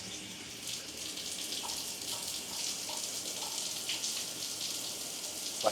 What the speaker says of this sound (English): So if you were to do the tropical one,